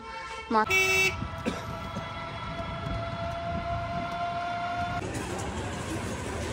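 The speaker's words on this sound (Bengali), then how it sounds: "দেখো আমরা এখন মাঝদা স্টেশনে চলে এসেছি" A train at Majhdia railway station, with a sharp horn toot near the start followed by a long sustained tonal hum and rumbling rail noise close by, fairly loud and steady throughout.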